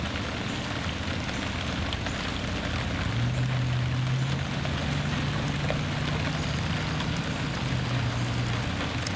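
Steady rain falls outdoors beside a crape myrtle, a constant dense hiss throughout with a faint low droning tone passing midway, no voices.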